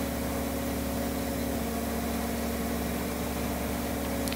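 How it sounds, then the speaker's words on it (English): Steady, droning tractor engine in the video game Farming Simulator 2013, a loud, constant hum and rumble with no talking. "And for plowing I'd have to use this tractor because it's got more guts."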